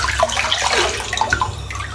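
Cold water splashes from a tap into a sink in a bathroom during a wet shave, a continuous close gush with small bubbling and trickling variations and no talking.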